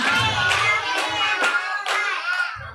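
Children clapping together in a counted rhythm at a storytelling session, with about five sharp claps spaced roughly half a second apart, close and loud, over a faint low murmur of voices.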